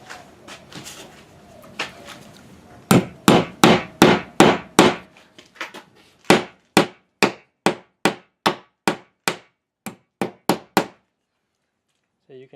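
Sharp metal hammer blows driving a molly bolt directly into sheetrock without a pilot hole, a quick run of five followed by a slower series of single strikes, close and loud, with faint talk at the start.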